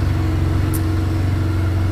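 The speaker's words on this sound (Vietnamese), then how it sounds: "Giờ em sẽ test tiếng máy cho mọi người ha, tiếng máy nổ khá là hay" A Benelli BN302S twin-cylinder motorcycle engine runs close by with a steady, deep, even throb, holding a constant idle-like rumble rather than climbing in pitch.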